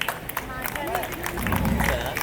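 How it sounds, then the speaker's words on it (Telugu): An audience at a school silver jubilee reunion claps for Gangaraju, scattered applause mixed with crowd chatter and voices nearby. "Give him big applaud. Please clap for Gangaraju."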